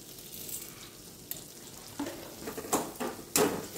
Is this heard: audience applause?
no